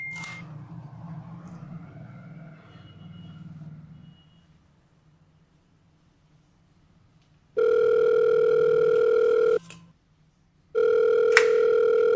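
A telephone rings during a phone call: after a stretch of low murmur and near silence, two long, loud electronic ring tones sound close by, separated by a brief pause.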